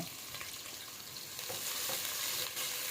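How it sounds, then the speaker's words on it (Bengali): Onions frying in a pan for a beef dish, a dense, continuous sizzle with occasional stirring scrapes, close and steady, growing slightly louder toward the end, no talk. "দেখেন এখানে পেঁয়াজগুলো আমি ফ্রাই করছি"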